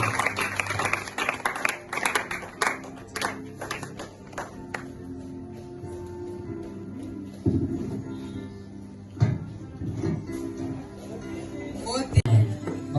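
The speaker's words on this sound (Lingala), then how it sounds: "Elle avance et nous acclamons pour la gloire du Seigneur" A church congregation at a Mothers' Day service in 2025 breaks into rhythmic applause for a woman preacher stepping up to the pulpit. Bursts of clapping fill the first seconds, then thin out, with voices and scattered taps continuing.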